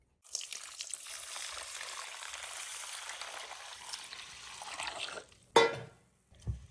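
Millet and masoor dal grains being washed in water in a pot, a soft continuous swishing and sloshing for several seconds, then a sharp clunk and a brief splash, quiet and close.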